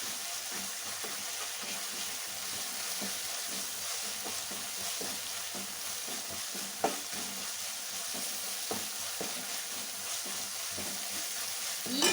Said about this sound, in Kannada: ಈಗ ಹಾಕ್ಕೊಂಡು ಮತ್ತೆ ಇದನ್ನಿಷ್ಟು ಫ್ರೈ ಮಾಡೋಣ. ಇದು ಸ್ವಲ್ಪ ಹೊತ್ತು ಹಾಗೇ ಫ್ರೈ ಆಗ್ತಾ ಇರಲಿ.